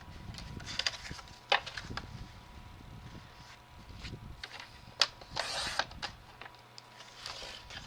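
A paper trimmer slices through cardstock two sheets at a time in quiet, separate bursts: short scraping swishes and small clicks, with one longer sliding cut midway and soft handling noises between them.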